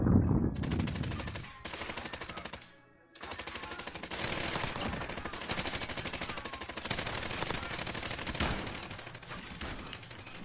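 Rapid automatic gunfire in a Call of Duty firefight, with loud sustained bursts and short pauses between volleys, echoing in the game's fight.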